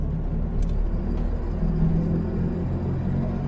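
A 32-year-old Polski Fiat 126p cruises on a highway at about 100 km/h, giving a constant loud low engine rumble and road roar from inside the car, with no speech.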